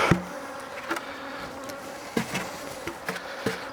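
Honeybees hum in a steady close buzz while being brushed off a hive roof, broken by a few sharp knocks and scraping taps.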